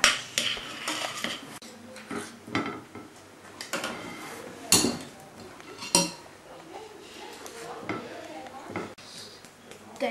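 Utensils fold rocket leaves through a dish with irregular clinks, taps and scrapes against the plate, close and fairly loud, with a voice talking at times.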